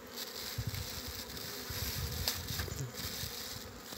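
Honeybees on their first flight of the season hum in a dense, steady buzz around the hive, with faint patters and rustles nearby and no voices.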